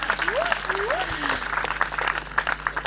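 Audience applause at an outdoor evening show by the waves, sustained clapping with a few whoops and a voice over it.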